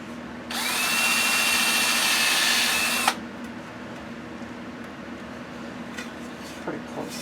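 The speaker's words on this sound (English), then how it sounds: "I'm going to pre-drill." A power drill pre-drilling wood for a teardrop camper build whines loudly and steadily for about two and a half seconds, then stops abruptly, leaving faint workshop noise and a few small knocks.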